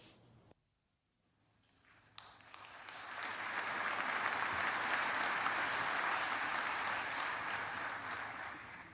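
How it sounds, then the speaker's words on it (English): An audience at a formal military memorial ceremony at Arlington applauds the band and chorus, a short quiet pause giving way to broad, sustained clapping that swells and holds steady, with no talk over it. "let's give the band and the chorus another round of applause"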